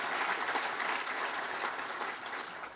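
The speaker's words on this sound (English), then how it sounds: "Will you please have a round of applause for our panel for joining us?" Audience applause at a business breakfast panel event, a steady, dense wash of many hands clapping throughout, moderately loud and fairly close, with no speech over it.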